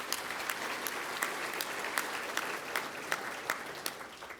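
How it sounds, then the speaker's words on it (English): Applause from a conference audience honoring the patrons, a steady wash of many hands clapping close by with a few sharper claps standing out, fading slightly toward the end. "I want to give all the patrons one more round of applause,"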